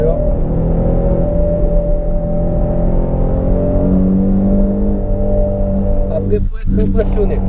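A Nissan 350Z accelerates hard, its engine roaring loudly and steadily from close inside the car, with rising and shifting engine tones and a brief break near the end.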